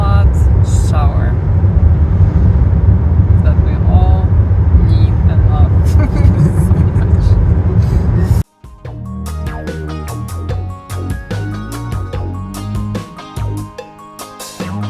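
A rental car on the road toward Boston gives a loud, steady cabin rumble beneath a person talking for about eight seconds, then cuts abruptly to music.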